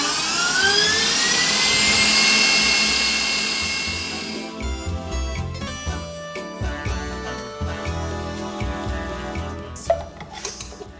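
An electric hand mixer whirs steadily while beating carrot cake batter with refined and brown sugar, its motor pitch dropping and turning rattly midway as the beaters churn through the thickening mix, with faint clatter against the bowl.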